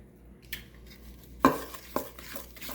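Egg being mixed into blondie batter in a bowl: soft scraping strokes with a couple of sharp clinks of utensil against the bowl, close and fairly quiet.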